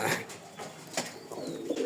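A Rajgolla pigeon, an old breed, gives a few soft, near coos in quick succession.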